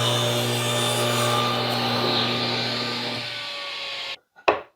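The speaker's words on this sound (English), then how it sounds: "I'm going to run this through the table saw, and I'm going to rip about 1/4 of an inch off of this right here" A table saw rips about a quarter inch off a wooden board, running as a loud, steady whine for several seconds before spinning down, followed by a short clunk.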